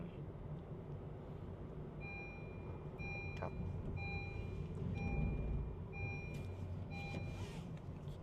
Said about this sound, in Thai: นี้ก็คือเสียงเตือนเข็มขัดนิรภัย